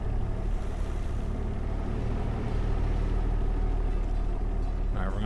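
A van engine idles steadily in the Car Dealer Simulator game, a constant low rumble that runs unbroken throughout, with a short faint noise near the end.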